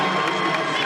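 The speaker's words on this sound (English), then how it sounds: "A big round of applause from the South Carolina faithful behind the bench" Crowd of South Carolina fans behind the bench applauds and cheers at a women's college basketball game against Auburn, a steady, loud wash of clapping and voices filling the arena.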